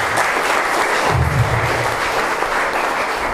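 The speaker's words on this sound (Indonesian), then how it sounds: "Tepuk tangan buat Tuhan." A church congregation applauds steadily throughout, a dense continuous clapping that fills the space without pause, with a faint low murmur beneath.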